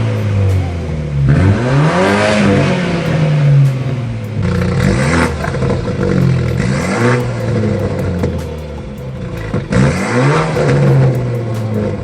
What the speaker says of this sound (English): you were able to hear some of the pops and how it sounds